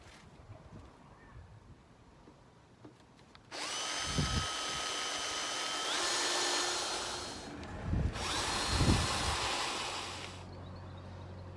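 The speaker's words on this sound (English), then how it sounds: "So that's all drilled out, cleaned out nicely now." A power drill with a 6.5mm bit drills out rivets on a Rival 41 sailboat in two bursts, each spinning up with a rising whine and running several seconds, close and loud after a quiet stretch.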